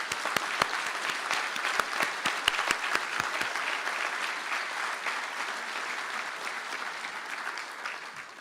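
Audience applause at an engineering graduates' conferring ceremony in Galway, a steady sustained clapping throughout with a few sharper individual claps early on, no talk over it.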